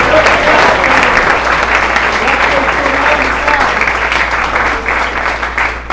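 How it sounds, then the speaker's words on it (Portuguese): A church congregation claps steadily throughout a worship service, a dense, continuous wash of applause with a low hum underneath and no break for the full stretch. "Aplauda o Senhor. Vai aplaudindo"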